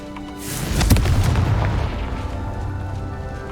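A spell in the Hogwarts Legacy video game detonates as a fiery Confringo blast. It hits with a single loud, deep boom, and a rumbling roar trails off over a few seconds.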